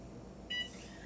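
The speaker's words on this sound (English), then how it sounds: "Let me just set a timer" A single short electronic beep from a timer being set, one bright tone standing out briefly against a quiet room background.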